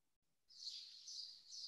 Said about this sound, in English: can even hear the birds tweeting